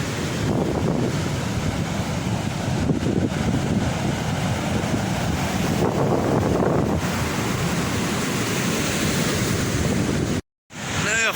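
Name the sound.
rough sea waves breaking on the shore in December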